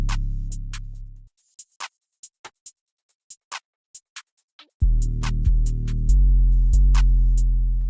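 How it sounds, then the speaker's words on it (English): A melodic ambient beat's full drum pattern plays alone: first a deep 808 tail fading out, then a sparse run of crisp clicking hits, then booming 808 bass notes returning under steady drums, loud and close. "Yep, and full drums sound like this."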